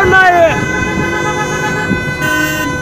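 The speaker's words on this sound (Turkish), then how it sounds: "Çal kornayı." A Tofaş car's horn blares loud and close in a long, sustained honk that dips briefly near the start, with voices around it on the street.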